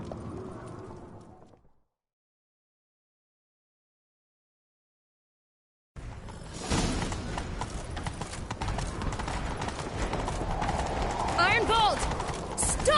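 Horses galloping in The Witcher 3, a burst of hoofbeats at first, then a gap of silence before loud, continuous clip-clop galloping resumes, with a horse whinnying near the end.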